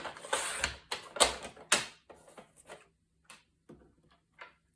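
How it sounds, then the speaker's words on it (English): Paper for a mini scrapbook album page being cut with a trimmer, a run of loud close scraping strokes in the first half, then fainter short clicks and slides. "And then I'm going to cut this to 7"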